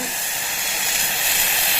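Steady, loud hissing and bubbling of water at a rolling boil, a continuous airy rush with no pauses.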